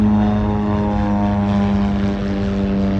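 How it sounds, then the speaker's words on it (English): A low-flying propeller airplane passes overhead over farmland, a loud, steady droning engine roar with strong buzzing harmonics, close and dominant for the whole stretch. "Oh, plane."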